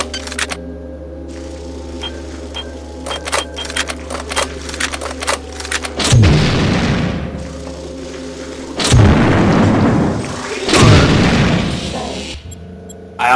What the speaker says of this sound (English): I'm just gonna shove a couple of frag grenades in there.